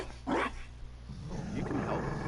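Dog growling in a video game, two low, rumbling snarls a second apart, close and moderately loud against a quiet background.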